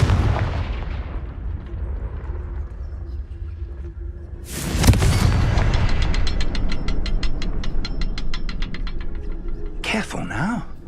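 A Confringo blasting spell in Hogwarts Legacy bursts with a sharp, loud explosion midway, followed by a rapid rattling crackle of debris and a whooshing magical swirl at the end, over low ambient rumble.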